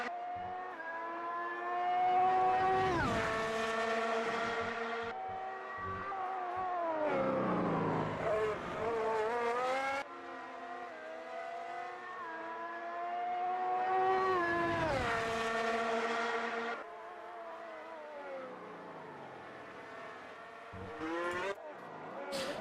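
Race cars in the Automobilista 2 sim game roar past in repeated waves, engines climbing through revs, dropping on downshifts and surging again, loud and continuous with gear changes marking each cycle.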